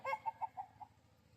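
A chicken clucks about five times in a quick, evenly spaced series, moderately near, in a natural farm garden that also has goats and cattle.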